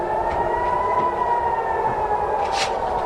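Air raid sirens wail across Tel Aviv, a steady, sustained tone with slow rising and falling pitch carrying over the city at moderate distance, with faint background noise.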